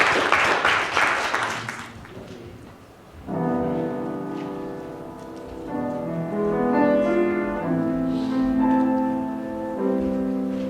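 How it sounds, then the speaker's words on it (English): Audience applause at a live music performance: a brief burst of lively clapping for about two seconds that dies away, then sustained music with singing follows. "let's give him a big round of applause"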